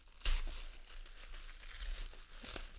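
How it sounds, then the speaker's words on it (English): Plastic wrapping crinkles and crumples as a Christmas craft kit is unwrapped, a sharp rustle at the start followed by continued close, soft crackling with no talking. "Carefully unwrap your kit"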